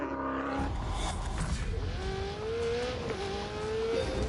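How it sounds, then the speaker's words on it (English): Ferrari 488 lapping a track in Gran Turismo on PS4 Pro, its engine note sustained and loud throughout, rising in pitch as it accelerates through gears, with a brief shift dip and no talk over it. "time now to show you what a lap looks like, and to do that, we've got a bit of a performance benchmark, a Ferrari 488"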